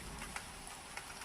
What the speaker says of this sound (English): Why does it need to rain on Halloween's Eve only?